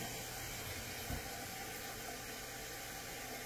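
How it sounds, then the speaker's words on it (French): A toilet tank refills with water after the flush handle is replaced, producing a steady, even hiss of running water throughout with one small knock and no voices. "Fait qu'une fois que la poignée est posée, on rouvre l'eau."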